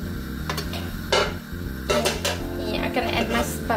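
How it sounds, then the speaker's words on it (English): Asparagus goes into a pan for a spicy prawn stir fry, with metallic clatters of a utensil against the pan and a few sharp sizzling bursts over a steady hum. "and then I'm gonna add my asparagus here"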